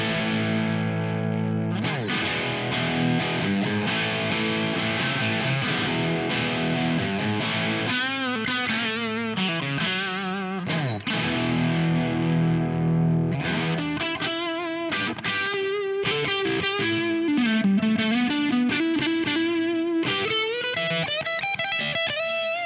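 Electric guitar through a Bugera 1960 Infinium amp set for a plexi tone, played continuously and loud with crunchy distorted chords and single-note lines, some bends and vibrato, without talk.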